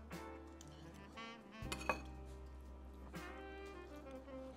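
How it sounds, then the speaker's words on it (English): A knife and fork cut through a piece of eggplant parmesan on a plate, making a few faint clinks and scrapes against the dish, with a sharper clink partway through and steady low background hum. "So I'm gonna go ahead and cut a piece of the eggplant parmesan."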